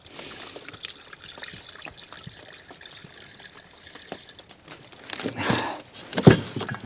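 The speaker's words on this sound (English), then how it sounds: "then obviously I'm going to add some water" Water pours and trickles into a large pot for boiling broth at a solo camp, a steady splashing stream that grows louder and more forceful toward the end.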